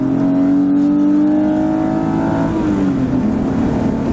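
A tuned car with an aftermarket intake, engine tune and exhaust accelerates hard, a loud close engine note climbing in pitch, easing back briefly and climbing again as it shifts gear.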